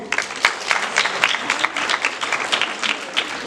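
Audience applauding during a live televised show, a dense wash of clapping with sharp individual claps standing out, steady and fairly close throughout.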